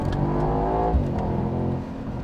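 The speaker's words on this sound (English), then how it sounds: "just check out that glorious exhaust noise" A 2023 Mercedes-AMG SL Roadster's exhaust roaring loudly, the engine note rising then dropping briefly before settling into a deep rumble.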